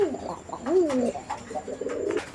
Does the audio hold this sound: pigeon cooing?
yes